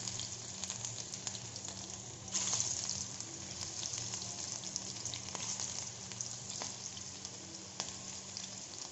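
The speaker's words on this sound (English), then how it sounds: "pour some oil. Add the fritters one by one. Don't overcrowd it." Banana flower fritters fry in a pan of oil, giving a soft, even sizzle that stays quiet and steady with no talking.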